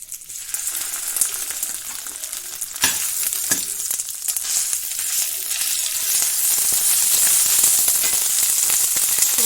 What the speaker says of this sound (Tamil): ஸோ லைட்டாக வறுத்துக்கலாம்.